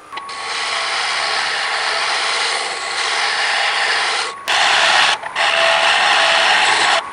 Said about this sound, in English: I'm going to try this with a shearing cut here with my gouge